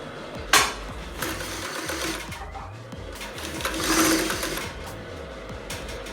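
A Two Lion TL-335A cylinder-arm industrial sewing machine stitching steadily, switching between 5 and 3 stitch lengths, with a close, continuous rapid mechanical chatter and a louder surge partway through.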